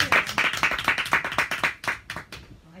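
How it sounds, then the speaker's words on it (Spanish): A small group claps briskly at close range, a run of sharp hand claps in quick rhythm that thins out and fades after about two and a half seconds. "Un aplauso para los amigos."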